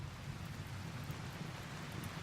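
Steady rain falls in the video game RimWorld, set in a boreal forest, as an even, continuous hiss with a faint low rumble beneath and no voices.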